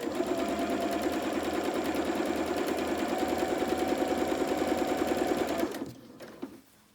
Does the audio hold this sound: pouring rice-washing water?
no